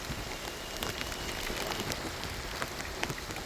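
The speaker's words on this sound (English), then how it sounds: "Raining pretty good now." Steady rain patters on surfaces nearby during a bike ride on the C&O Canal towpath near Hancock, a dense continuous hiss with scattered louder drops throughout.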